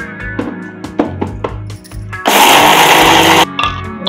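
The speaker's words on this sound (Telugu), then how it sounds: "మనము మిక్సీ జార్లో వేసేసుకొని ఇవి పచ్చడి రెడీ చేసుకుందాం" An electric mixer grinder whirs loudly in a short burst, grinding roasted chillies with garlic and salt into a coarse Andhra-style chutney, preceded by several clinks and taps of the jar.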